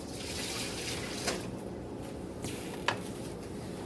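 Liquid from poaching chicken in white wine is poured out of a pan to drain, a soft, steady trickle and splash with a couple of faint clinks, quiet and without voices.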